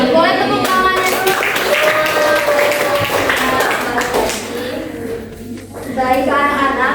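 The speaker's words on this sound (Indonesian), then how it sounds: "Boleh tepuk tangannya dulu." Fourth-grade primary school pupils clap together in a classroom, a brisk burst of hand claps mixed with children's voices and a teacher talking.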